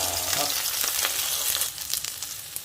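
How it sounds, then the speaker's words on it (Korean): Crackling, hissing sizzle of battered wild fatsia shoot (dureup) fritters frying in hot oil, steady and close, with soft clinks now and then. "전이 맛있게 익는 소리가 난다"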